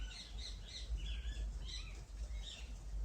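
Small birds chirp faintly in the distance, a series of short, repeated high calls over a steady low background rumble.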